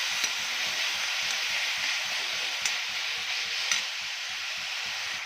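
Banana pieces are sautéed and pressed in a pan for semolina banana laddu, giving a constant bright sizzling hiss with soft, regular scraping thumps from continuous stirring underneath.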